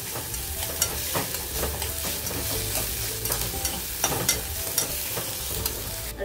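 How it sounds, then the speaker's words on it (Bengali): Chopped garlic and green chilies fry in hot oil in a pan, giving a soft steady sizzle broken by repeated scraping clinks of a spoon stirring, close and fairly quiet with no voices. "রসুন কুচনো আর কাঁচা লঙ্কা কুচনো দিয়ে দিলাম, দিয়ে ভালো করে নাড়াচাড়া করে ভেজে নেব"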